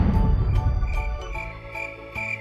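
A grasshopper chirps in a series of rapid rhythmic pulses, fairly loud and close, repeating in short bursts with nothing else behind it.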